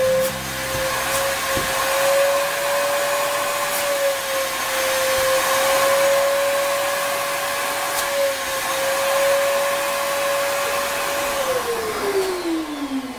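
A mobile dust extraction station with a cyclone separator runs as a steady, loud whine with a broadband rushing roar, holding an even pitch before it drops slightly near the end.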